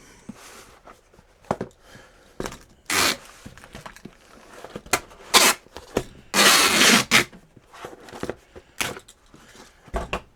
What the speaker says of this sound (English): Put some tape on it.